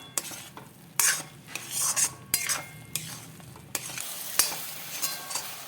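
Onion thokku cooking in oil in a pan, stirred with a spoon that clinks and scrapes sharply and repeatedly against the metal over a soft sizzle.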